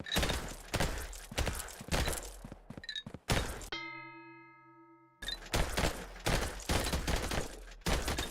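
A minigun firing in the game Vampire Hunters, bursts of rapid loud shots broken by a short pause filled with a ringing tonal chime before the firing resumes.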